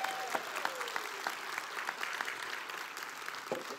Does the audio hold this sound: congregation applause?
yes